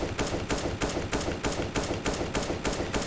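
Tap-firing gunshots in CS:GO, sounding as a rapid, evenly spaced series of about a dozen sharp, loud shots in quick rhythm, with no voices.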